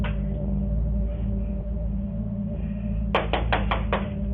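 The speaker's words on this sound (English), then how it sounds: "pounding her hand against the door" A hand pounds against a door in a run of about six sharp, rapid knocks near the end, following a quiet stretch of low steady hum.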